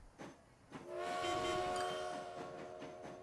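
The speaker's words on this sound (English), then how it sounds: "Ooh, a new train came out." A train in the Transport Fever video game arrives with a sustained, tonal horn blast over rolling rail rumble and soft clicking of wheels.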